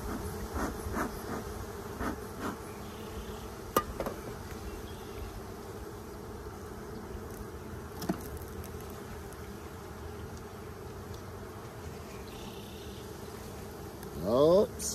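Honeybees buzz at an opened hive during an early spring checkup, a steady, moderate drone with passing louder flybys near the listener and a few small handling sounds.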